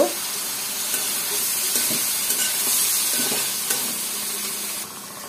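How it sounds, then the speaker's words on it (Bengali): Potatoes stir-fried with dried loitta fish (shutki) in a pan, a steady close sizzle with stirring scrapes throughout and no talking. "শুটকির সাথে আলুগুলা খুব ভালোভাবে কষিয়ে নিলাম।"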